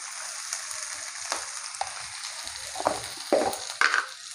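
Potatoes and onions sizzle steadily in oil in a kitchen pan, with several sharper clinks and scrapes of a spoon stirring near the end; no voices.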